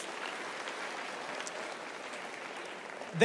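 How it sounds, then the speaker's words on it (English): A high school chapel congregation applauds, a soft, distant wash of steady clapping that carries evenly for about three seconds before a voice starts at the very end. "Give them a round of applause"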